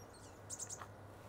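Chestnut-backed chickadees call at a marsh with a quick run of three or four thin, high chirps, faint and somewhat distant over a quiet background.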